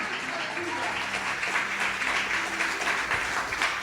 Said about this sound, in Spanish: Dale un aplauso al Rey con todo tu corazón.